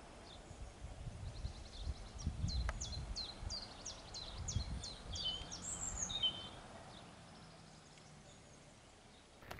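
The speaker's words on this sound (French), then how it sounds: "Les oiseaux, quoi." Small birds sing and chirp in quick repeated phrases on a countryside hiking trail near Taillet, moderately close, over rustling and low outdoor rumble with no talking.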